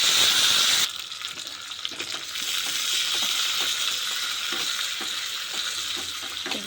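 Garlic and coriander leaves frying in a pan give off a steady, hissing sizzle with faint clinks of stirring scattered throughout, close and moderately loud, with no talk.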